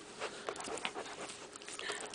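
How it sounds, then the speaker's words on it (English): A dog pants close by while meeting a cat, quick rhythmic breaths sounding in short bursts against a quiet room, with faint patters and small whimpering tones. "We're right up here in the action where the kitty and the puppy dog meet."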